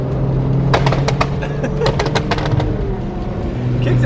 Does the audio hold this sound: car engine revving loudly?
yes